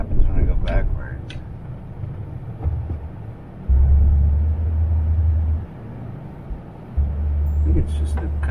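A car reversing on wet brakes gives off a low droning groan that rises in two sustained bursts, with a voice talking faintly over it.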